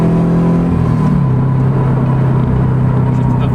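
A 2016 Scion FR-S engine revs loud and close, its tone climbing toward about 5,000 RPM before dipping as it shifts gears. A steady rumble runs underneath throughout.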